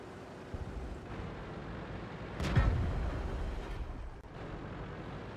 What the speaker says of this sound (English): There goes arty firing at me.